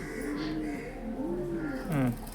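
Young pigeons cooing softly in a loft, low wavering calls repeating at a moderate distance over a steady background hum.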